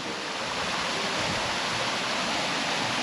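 Steady, dense rushing water roars continuously at close range, a broad unbroken wash of falling waterfall water with no voices, at Phu Thap Boek, Thailand.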